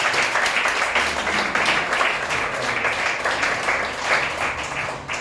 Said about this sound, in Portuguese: Pode aplaudir a Jesus mais uma vez.